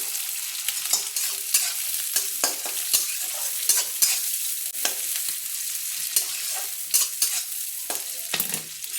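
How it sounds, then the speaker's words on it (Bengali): Chopped onions sizzle in a pan as a spoon stirs them, with repeated close scraping and clattering strokes over a constant frying hiss and no talking. "তো পেঁয়াজ কুচোগুলোকে আমি একটু ভালোভাবে ভেজে নিই।"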